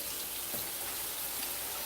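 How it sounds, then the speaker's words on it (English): Water runs steadily from a tap into a container with an even, hissing gush, alongside mint and coriander prepared for juicing. No voices. "Let's get the water in."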